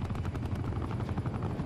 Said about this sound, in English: Enemy attack chopper above.